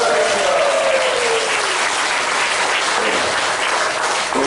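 A congregation at a commemorative worship service claps loudly and steadily, a dense close wash of applause sustained throughout with a faint tone underneath.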